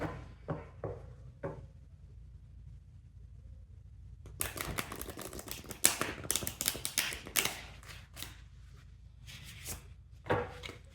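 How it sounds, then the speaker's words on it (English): A deck of cards being shuffled by hand during a tarot reading, a few sparse taps at first, then a dense run of crisp riffling clicks and slaps, close and clear with no talk. "I'm just going to shuffle like this in order to refresh the energy of the deck"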